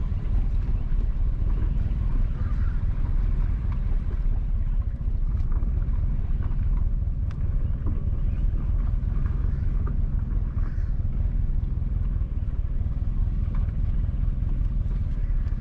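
A car drives along Marrakech Drive, a rural road in Huddersfield, St Mary Parish, Jamaica, with a steady low engine and tyre rumble and constant wind buffeting the microphone. The noise holds level throughout and no one talks.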